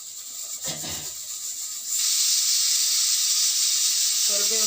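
A spoonful of oil goes into a hot pan of dry-roasted pepper for rasam, and a close, steady hiss swells up partway through and keeps going.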